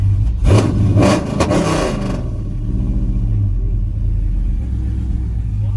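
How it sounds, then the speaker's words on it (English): A Dodge Scat Pack engine revs hard in a couple of loud bursts, then settles into a deep, steady, rumbling idle close by. "Rev it up."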